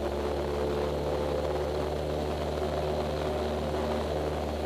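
Small propeller training airplane engine droning steadily and loudly after a short-field touchdown, a continuous near hum with strong low harmonics and no break.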